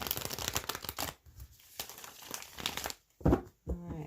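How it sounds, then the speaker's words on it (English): Tarot cards being shuffled by hand, soft papery riffles and crinkles in uneven bursts with short quiet gaps, close and fairly quiet, ending with a couple of sharper flicks. "one more shuffle"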